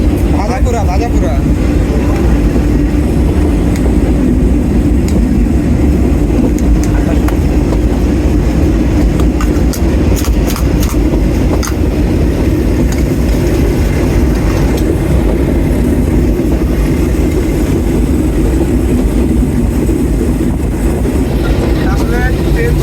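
A passenger train running on the Bogura to Santahar route, heard from inside the carriage as a steady loud rumble with rattling and faint rhythmic clicks and bursts of nearby voices.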